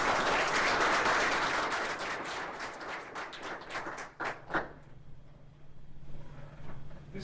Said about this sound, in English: Could we just give one more round of applause?